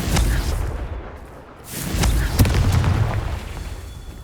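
Booming spell blasts from Confringo in Hogwarts Legacy: two loud explosive bursts with rumbling low tails, the second heavier, set against continuous game ambience.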